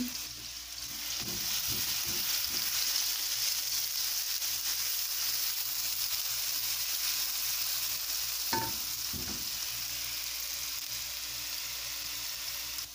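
Onion frying in hot oil in a pan while spring rolls are prepared, giving a steady, close hiss and sizzle that runs the whole time, with a few brief knocks and stirring clatters partway through.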